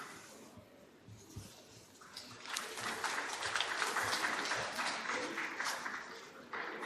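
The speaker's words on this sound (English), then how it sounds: "Can we welcome and have a round of applause for" Audience applause at a youth investor event welcomes a panelist onto the stage, starting around two seconds in and holding as a steady, moderately loud wash of clapping through the rest of the clip.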